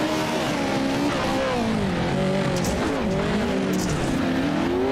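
Pro 4 off-road racing trucks at Wild West Motorsports Park roar past, with loud, continuous engine revving that rises and falls and some tire scrubbing throughout.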